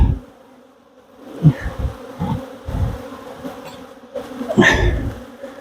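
Honey bees buzz around an open hive at a farm apiary, a close droning hum that swells and fades as individual bees pass near, with light handling noises between.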